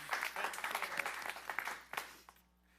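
A small group at a school board meeting claps for a couple of seconds, the applause scattered and fairly light before it fades out.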